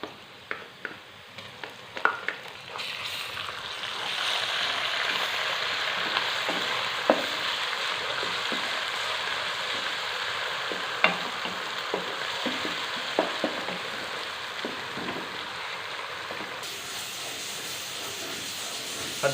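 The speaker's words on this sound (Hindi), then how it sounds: "अब इसके अंदर अदरक लहसुन का पेस्ट ऐड कर देंगे।" Steady sizzling and hissing of ginger garlic paste frying in hot oil, with occasional clinks and scrapes of stirring throughout; no voices.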